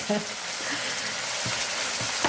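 Spiced masala sizzling in hot oil in a pan for a moong sprout curry, a steady broadband frying hiss with a few soft stirring scrapes, close and fairly loud, no voices.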